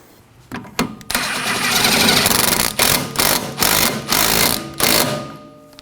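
A rear strut bolt on a 2013-2017 Honda Accord being tightened with a power tool: loud, close whirring bursts, one long run followed by several short repeated pulses, with no talking.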